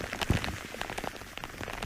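Rain patters steadily on a rain cover sheltering a person and a camera during an outdoor leopard sighting. The drumming is dense and continuous, with one sharper thump near the start and no voices.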